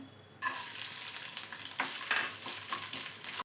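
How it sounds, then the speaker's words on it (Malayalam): Coconut pieces fry in a tablespoon of ghee in a pan, a loud, crackling sizzle that starts suddenly and continues steadily, with occasional stirring scrapes. "അതിലോട്ട് കുറച്ച് തേങ്ങാക്കൊത്തിട്ടൊന്ന് ഫ്രൈ ചെയ്തെടുക്കാം."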